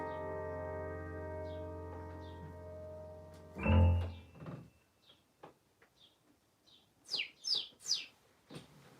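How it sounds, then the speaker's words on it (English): A blackbird sings near a garden shed after a piano ballad ends, giving faint, scattered chirps and then a louder run of bright, rapid whistled notes toward the end. "I think the blackbird either likes the ballads or hates the ballads."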